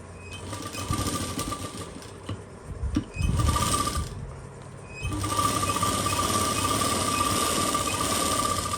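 A sewing machine stitches a pocket onto palazzo trousers with a close, steady mechanical whirr, pausing briefly and then running continuously again.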